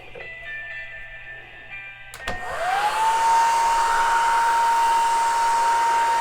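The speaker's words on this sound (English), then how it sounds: "check the operation of the wall hair dryer" A click, then a wall-mounted hair dryer whirs up and blows with a steady, loud airy roar and a constant motor whine.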